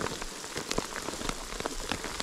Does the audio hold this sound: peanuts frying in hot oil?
no